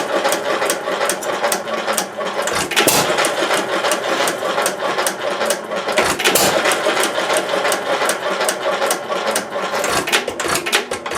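Old Stover and United stationary gas engines run steadily up close, a continuous mechanical chatter of rapid, even beats with occasional brief dips where the firing rhythm stumbles.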